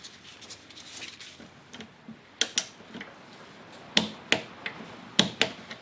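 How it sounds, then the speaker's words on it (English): Wrench clicks while a 17 mm fuel filter fitting is tightened on a 1999 Acura RL, with a 19 mm held as backup: a run of sharp, close metallic ticks, sparse at first, then louder and spaced out near the end. "So I'm going to hold the 19 down here, and I'm going to tighten that clockwise"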